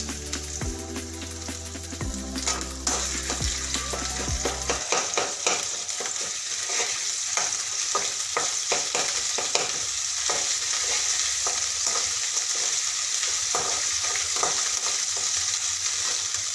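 Softened onion with ginger-garlic paste sizzles in a pan while a spoon stirs and scrapes steadily, close and continuous; a low steady hum sits under the first few seconds.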